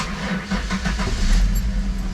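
A 1995 Ford Mustang engine cranks and catches, then idles roughly for a couple of seconds before dying, with steady low rumble and no voices.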